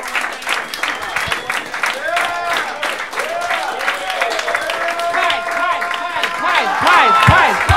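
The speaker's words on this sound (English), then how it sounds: "Now clap your fucking hands, assholes." A stand-up comedy audience claps and cheers in a dense, sustained wave of applause that swells toward the end, with voices shouting and talking over the crowd.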